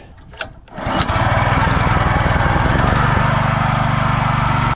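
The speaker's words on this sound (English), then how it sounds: "Little 8 horsepower with a SPS longtail mud motor kit on it" An 8 horsepower engine fitted with an SPS longtail mud motor kit on a small catamaran fishing boat starts up, then runs at a loud, steady close-range drone with a rapid firing pulse.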